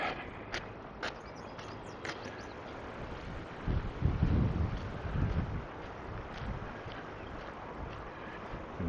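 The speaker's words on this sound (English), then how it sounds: "see the wind blowing these things around too, enthusiastically" Wind gusting outdoors on a gloomy June day in Regina, a steady broad rush with a stronger swell midway, blowing loose things around, no voices.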